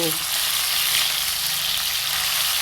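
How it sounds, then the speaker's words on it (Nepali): Tomatoes frying in a hot kadai for a village-style niguro and potato dish, giving a steady, bright, close sizzle that continues unbroken as the pan is stirred. "अब कराईमा टमाटर हाल्ने, त्यस पछाडि एकैछिन हामीले यसलाई चलाउँछौँ"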